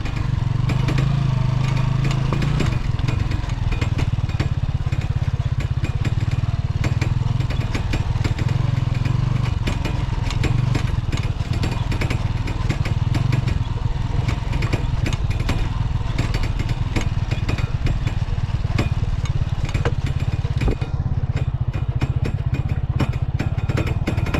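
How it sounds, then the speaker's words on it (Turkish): A motorcycle engine runs loudly and steadily in a village setting, a constant close rattling drone with clattering mechanical noise throughout and no talking. "Vallahi derhal bu motosikletin arkadaki zımbırtıyı yapmamız lazım. Yoksa çok aşırı ses çıkartıyor."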